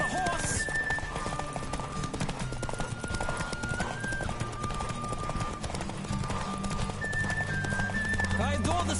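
Horse galloping in The Witcher 3: Wild Hunt, rapid rhythmic hoofbeats with an occasional whinny, steady throughout under game music and a speaking voice.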